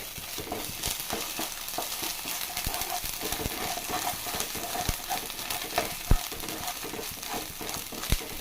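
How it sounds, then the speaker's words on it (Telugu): Ginger garlic paste fries in a pan and is stirred constantly, giving a dense, even sizzle close up with scattered clicks and a few sharper clacks of the spoon against the pan. "ఇది కూడా బాగా ఫ్రై అవ్వాలి పచ్చి వాసన పోయేంత వరకు ఫ్రై అవ్వాలి"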